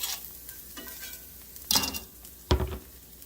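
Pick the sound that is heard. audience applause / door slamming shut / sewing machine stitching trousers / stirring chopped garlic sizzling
stirring chopped garlic sizzling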